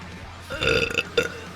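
A person lets out a loud, close burp that swells and gurgles for about half a second, then a second shorter burp follows, with quiet room tone between and no talk.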